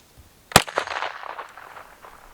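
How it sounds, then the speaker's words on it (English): A single 5.7x28 round is fired from a P90 into body armor outdoors, one sharp loud crack followed by a short decaying echo, with no voices. "So we're only going to shoot 1 round out of it."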